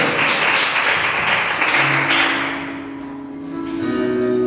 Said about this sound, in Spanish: ¿Cuántos dan un fuerte aplauso a la palabra de Dios?